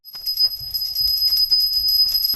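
A small child rings a brass puja hand bell indoors during a morning prayer routine, steady rapid ringing with bright sustained tones throughout, moderately near, no talk.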